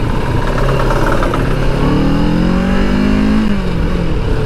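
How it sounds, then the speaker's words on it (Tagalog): Kawasaki Ninja 650 motorcycle doing a rear tire burnout with the front brake held: loud, close engine revving with a rising, strained pitch that peaks and drops back, over dense rough noise. "Kung paano mag burnout ng gulong"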